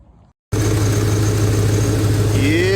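A Chevrolet 6.0 LS V8 with a small exhaust leak settles into a loud, steady idle after half a second of near silence. The water pump, tensioner and belt have just been serviced. No one speaks.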